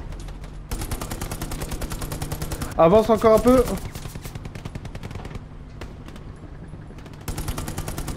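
Automatic machine gun fire in the Hell Let Loose video game rattles as steady rapid bursts through most of the stretch, with a louder flurry in the middle, while someone speaks briefly over it.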